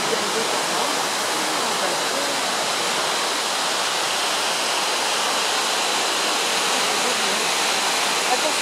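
The Ouzoud waterfalls in Morocco roar as a dense, constant rush of falling water, loud and close, holding one broadband wash for the whole span with no talk over it.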